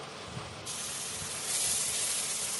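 Panch phoron, dried chilli and turmeric powder hit hot oil in a kadai with a loud continuous sizzle that swells to a brighter hiss partway through.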